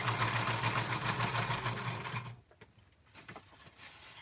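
A good-quality sewing machine stitches embellishments in a fast, even mechanical whir, then stops partway through, leaving faint handling sounds and small clicks.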